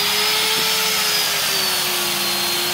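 An angle grinder fitted with a chainsaw-like cutting disc grinds into wood, a loud continuous high-pitched whine with a steady motor tone, near and uninterrupted.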